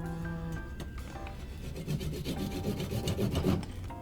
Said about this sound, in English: I'm gonna start slicing a couple pieces of ice.